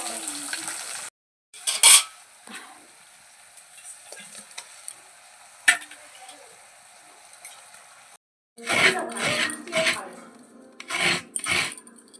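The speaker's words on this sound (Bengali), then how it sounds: "তরোয়াল মাছের ঝাল করবো, ওই জন্য ভাজছি আমি।" Ribbonfish pieces frying in a pan for a spicy fish curry, giving steady hissing sizzle broken by bursts of louder spattering and a few utensil clinks. Voices are heard in between.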